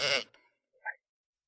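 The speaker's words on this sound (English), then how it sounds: "Sheep." A sheep bleats in a short, nasal burst right at the start, followed by a faint second brief call, close by and otherwise surrounded by silence.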